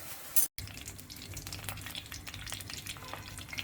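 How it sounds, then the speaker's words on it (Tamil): Mustard seeds and peanuts crackle and sizzle in hot oil as a tempering, with a continuous busy frying hiss and scattered pops close by, after a short initial burst. "கடுகு வேர்க்கடலை தாளிப்பு சேர்த்துருக்கேன்"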